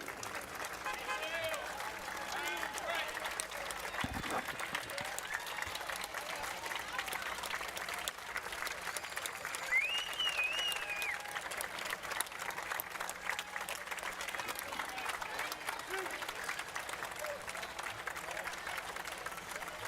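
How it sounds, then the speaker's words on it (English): A crowd at a July 4 Independence Day parade applauds and cheers veterans passing by, a steady wash of clapping and voices lasting throughout at moderate distance, with a faint whistle or shout midway. "the crowd is giving our veterans a very warm welcome"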